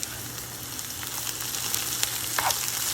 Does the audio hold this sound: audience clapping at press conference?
no